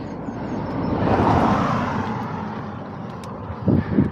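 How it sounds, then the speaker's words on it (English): Car passing on a road, heard from an e-bike rider's position as a broad whoosh that swells and fades over a few seconds, with wind buffeting the microphone. "so there's a car coming"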